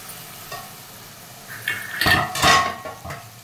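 A lid is closed on a pan of egg and dry prawn curry, making a few close metallic clanks and clatters in the second half over a faint background hiss.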